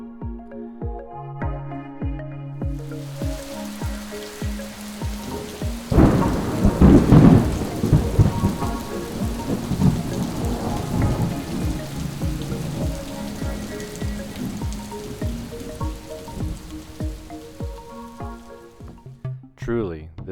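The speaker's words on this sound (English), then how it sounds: "it was time to simulate natural rainfall as best as my ability would allow" Simulated rainfall sprayed over a bioactive vivarium, heard as a steady hiss of water pattering on leaves and soil, starting after a few seconds of quieter sound and swelling loudest early before settling into a continuous shower, with low thunder-like rumbles beneath.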